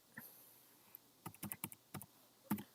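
Quick bursts of keystrokes on a computer keyboard while coding PHP, a lone tap followed by irregular clusters of close, crisp clicks with short pauses between them.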